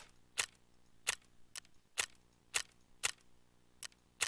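Gunfire in the video game Escape from Tarkov, about eight sharp, fairly faint shots spaced irregularly about half a second apart, with quiet gaps between them.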